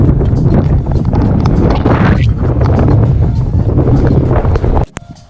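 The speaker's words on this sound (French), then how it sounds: "il y a pas mal de vent" Heavy wind buffeting a microphone while cycling up the Col de Frontfroide, a loud continuous roar and rumble that cuts off abruptly near the end.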